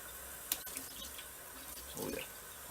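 Hot water drains out of a homebrewing setup while making Duff beer, a quiet steady trickle with a brief splash and a small gurgling surge near the end.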